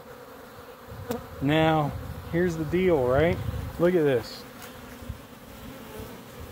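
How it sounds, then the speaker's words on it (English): Honey bees buzz in a dense steady hum around a hive during a big hatch-out, heard close throughout while someone talks over the swarm. "This looks like a big hatch out. Look at all these bees."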